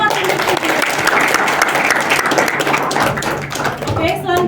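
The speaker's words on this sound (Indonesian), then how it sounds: "Oke, beri tepuk tangan kepada semua tim." Loud, dense applause from an audience cheering debate teams at a student debate event, sustained throughout with some crowd voices mixed in.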